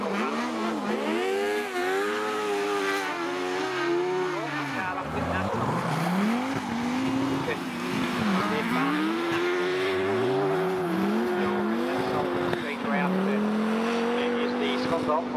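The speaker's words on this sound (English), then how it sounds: "These cars getting a little bit stretched out as they come round here" Autograss race cars slide around a dirt track, with engines howling and rising and falling in pitch as several cars rev through the corners, loud and continuous while a commentator talks over them.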